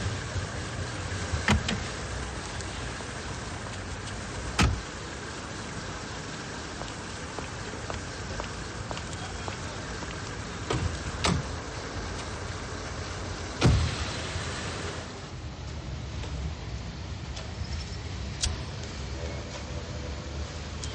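A car on the road with a steady rumbling engine and road noise, occasional sharp knocks and clicks, and a soft hiss like rain on the body, no clear talk.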